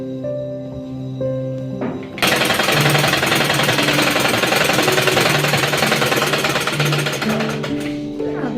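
A sewing machine runs a straight seam on a baby dress, starting after a brief quieter moment into a loud, rapid, steady needle clatter that eases slightly near the end, with faint background music.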